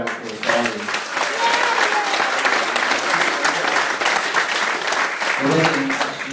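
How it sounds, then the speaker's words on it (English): Wedding guests break into a full round of applause for Ollie, loud sustained clapping filling the room, with voices audible at the start and again as it fades. "So can I get another round of applause for Ollie?"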